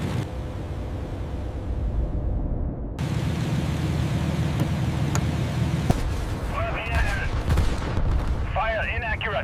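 Bursts of gunfire and heavy booms in a WWII Battle of Britain aerial combat dramatization, loud rumbling fire over roaring noise, with a sharp cut partway through and radio-style voices talking toward the end.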